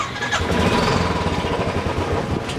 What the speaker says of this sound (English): My bike has idling problem.